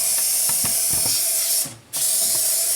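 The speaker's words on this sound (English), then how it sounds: "spray the hell out of it with the Lysol" Lysol disinfectant spray hisses in several bursts onto a wooden cabinet, close and steady, with a short pause before the spraying picks up again.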